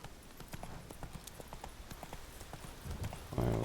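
Roach the horse trotting in a video game, with steady repeated hoof clip-clops at a moderate pace, fairly close, no talk, ending in a brief louder burst.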